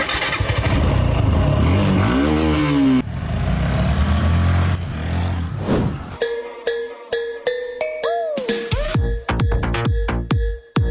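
Motorcycle engines rev and rumble up close, then pull away. Revving bursts rise and fall, mixed with other tonal sounds in the latter half.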